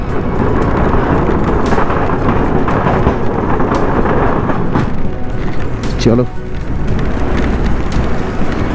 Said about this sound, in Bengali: খুব জোরেই বৃষ্টি পড়ছে